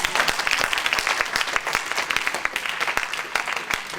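A church congregation claps and applauds in a dense, rapid patter that holds steady and fairly loud from start to finish, with no voices standing out above it.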